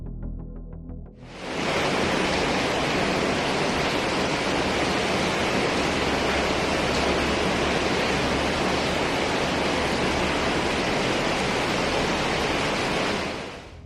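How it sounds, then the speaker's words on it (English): Loud, steady roar of typhoon wind, torrential rain and nearly three-metre waves pounding the shore, a broad continuous rush that fills the scene after a quieter first second, with no voices. "along with torrential rain that quickly flooded several coastal areas. Waves reached nearly 3 meters in height, crashing against the shores with tremendous force."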